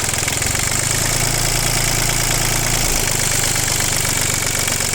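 A small ISEKI TU220 Japanese tractor diesel engine idles steadily with a low, even chugging rumble, loud and close throughout.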